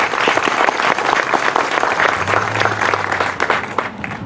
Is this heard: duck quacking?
no